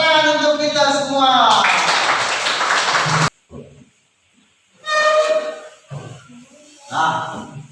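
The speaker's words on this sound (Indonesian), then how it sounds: "Tepuk tangan untuk kita semua." A classroom full of students breaks into loud clapping for a few seconds, followed by scattered talking voices.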